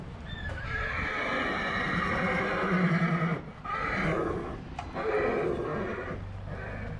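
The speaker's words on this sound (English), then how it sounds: "His mares weren't too pleased to see him go though, and became quite agitated" Agitated mares in the New Forest neigh and whinny repeatedly, loud and close, with shrill calls rising over a steady rumble and some hoof clip-clop, each call breaking off before the next.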